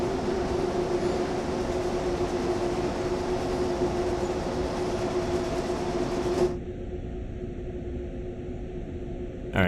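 A train in Train Sim World 2020 on the Main-Spessart Bahn in snow, braking, rolls steadily along the rails with a loud, continuous rumble; the sound thins abruptly partway through, then carries on more quietly.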